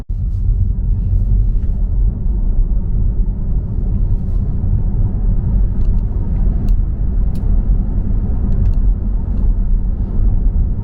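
A 2021 Tesla Model 3 Performance cruises on a highway, giving a steady, even low road-and-tyre rumble inside the cabin for the whole stretch, with no talking.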